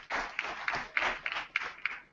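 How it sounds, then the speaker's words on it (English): A small audience at an African leadership panel event gives a short round of applause for a female panelist, a brief, faint, thin patter of scattered claps with distinct individual hits. "Round of applause for her."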